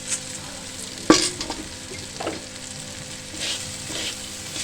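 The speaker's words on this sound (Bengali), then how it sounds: "চাল আর ডালটা মশলার সাথে ভালো করে মিশিয়ে নিতে হবে" Rice and fried dal being stirred with spices in a pan for khichdi, a soft sizzle under scraping spoon strokes, with a sharp clatter just after the first second and a few more stirring scrapes.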